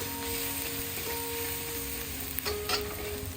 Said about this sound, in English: to sauté the garlic